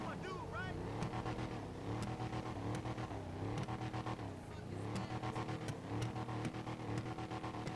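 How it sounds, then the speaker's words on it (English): A deep, rumbling engine of the Slamvan pickup truck in GTA 5 Online revs repeatedly in rising and falling surges, with a steady idle underneath and voices speaking over it. "I'll rev it a bit here for you guys."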